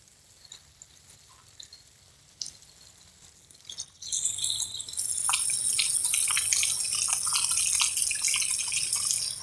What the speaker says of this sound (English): I'm going to add 1 cup of milk.